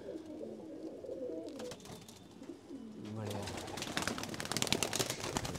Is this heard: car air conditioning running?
no